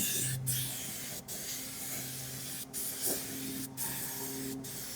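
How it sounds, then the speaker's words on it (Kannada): Several short bursts of hissing from a spray paint can, each a second or so apart, close and fairly loud, with a faint steady tone underneath. "ಅಷ್ಟೇ ಗಾಳಿ ಹೊಡೆದಾಕನ್ನು ಸ್ಪ್ರೇ ಹೊಡ್ತೀನಿ"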